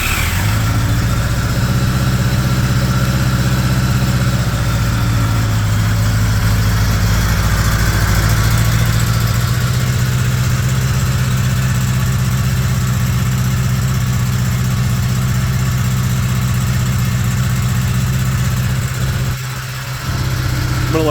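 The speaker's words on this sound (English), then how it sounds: "I'm going to let it idle for several minutes, let it get a little warm" A 1976 Honda GL1000 Gold Wing engine idles steadily and loudly in an open garage, a low continuous throbbing drone that holds for the whole stretch, with a brief dip near the end.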